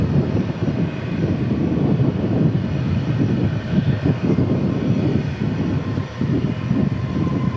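Boeing 757 jet airliner at DFW airport, a loud, deep, rumbling engine roar that stays strong and fluctuates throughout, dominated by low-end thunder.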